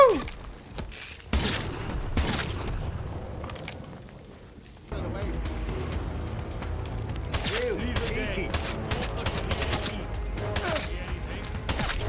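Bursts of submachine-gun fire rattle out repeatedly in the game Atomfall, loud rapid volleys with thumps and impacts, broken by a brief lull before the shooting resumes.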